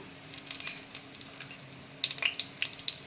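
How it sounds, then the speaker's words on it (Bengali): Cumin seeds sizzling in hot oil in a pan, a close, bright crackle with sharp pops that grows livelier partway through. "এবার আমি তেলের মধ্যে কিছুটা জিরে দিয়ে দিলাম"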